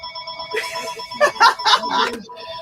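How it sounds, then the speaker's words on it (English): A telephone rings in a comic shop, a repeated electronic bell pattern with bursts of ringing across the clip, fairly loud and close, with voices mixed in. "in my live shop in which the phone's going to ring"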